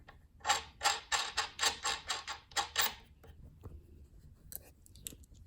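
Bolts with washers and nuts being fastened to secure a homemade box to its base, giving a run of about nine rhythmic, close ratcheting or scraping bursts, followed by quieter scattered clicks and handling noises.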